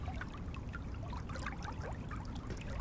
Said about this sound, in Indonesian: ia mendengar suara aliran yang lembut